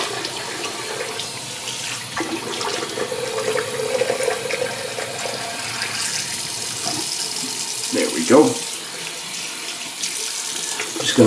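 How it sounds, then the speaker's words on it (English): A bathroom sink tap runs for a quick rinse during a shave, a steady stream of water with splashy bursts as things pass under it, fairly close, with a few brief thuds and clatters. "Let me do a quick rinse here."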